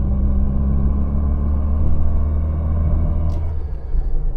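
A British Leyland Austin Allegro's A-series gearbox whines under a constant low drivetrain rumble heard from inside the moving car, with steady loudness throughout and no talk.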